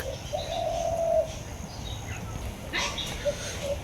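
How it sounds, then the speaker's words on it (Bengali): A spotted dove coos softly over a steady low background hum, with a faint second call near the end; no speech. "কি সুন্দর ঘুঘু পাখির ডাক।"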